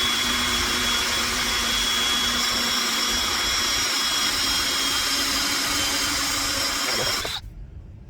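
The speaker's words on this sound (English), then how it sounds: "I drill through to the other side, then I come back and drill it all the way through." A drill fitted with a hole saw bores through wood in a steady, loud, continuous whine and grind up close, then cuts off sharply near the end, leaving a low residual hum.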